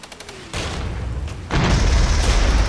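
T-55 tanks firing in the Regiments war game: a heavy booming blast starts a sustained roar, then a second, louder eruption of rumbling fire and explosions swells in, dense and continuous.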